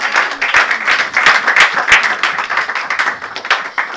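A church congregation applauds during a Sunday service, steady dense clapping from many hands with a few sharper claps standing out, no talk over it.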